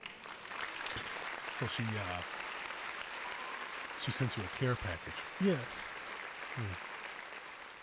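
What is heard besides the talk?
round of applause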